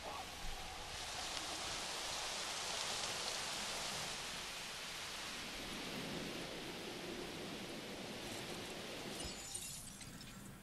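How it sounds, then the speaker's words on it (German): Steady rain falls in the park-building game Jurassic World Evolution on Isla Matanceros, a dense, even hiss that holds throughout and fades toward the end. "Oh, es regnet auf Isla Mataseros."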